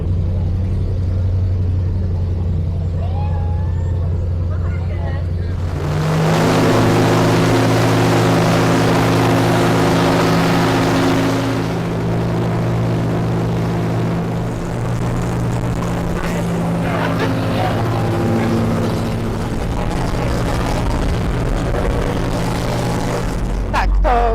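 A boat engine on a river idles with a low, steady rumble, then grows louder and fuller partway through, running continuously with faint background noise.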